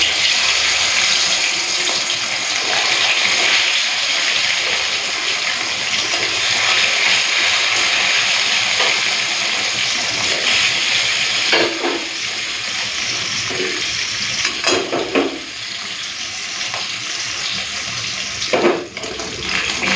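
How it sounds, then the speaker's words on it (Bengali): Bhetki fish frying in hot mustard oil with a steady, dense sizzle that holds throughout, and a few sharper spits and crackles standing out from the continuous hiss. "চলুন, তারপরে মাছগুলোকে একটা করে ভেজে নিই।"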